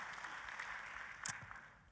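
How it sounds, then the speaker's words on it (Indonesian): Church congregation applauding at a worship service, a steady wash of clapping throughout with a brief louder burst near the middle, moderately distant and fairly faint. "Kita kasih tepuk tangan yang paling meriah buat Yesus Tuhan kita."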